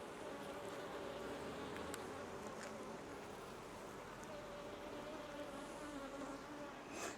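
Honeybees drone steadily around an open, queenless hive, a dense continuous buzz heard close up with a few individual bees whining past.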